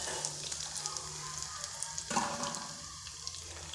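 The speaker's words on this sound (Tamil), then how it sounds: "இப்போ ஒரு பேனில் கொஞ்சம் எண்ணெய் ஊற்றிட்டு கடுகு, உளுத்தம் பருப்பு, 2 சீரகம் போட்டிருக்கேன்" Mustard seeds, urad dal and cumin frying in hot oil in a pan give a steady close sizzle with fine crackling throughout, swelling briefly in the middle.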